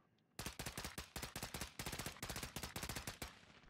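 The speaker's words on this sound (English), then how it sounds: "That's not you shooting, right?" Video game gunfire: a loud, close burst of about twenty rapid automatic shots in an even rhythm, ending abruptly, with no talk over it.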